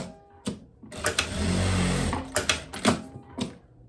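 Sewing machine stitching a seam on a long eyelet cotton dress, with a sustained whirring run in the middle flanked by short mechanical bursts and clicks, close and fairly loud.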